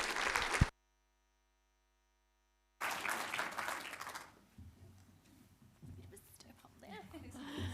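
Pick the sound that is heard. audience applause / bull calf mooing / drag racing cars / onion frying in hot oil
audience applause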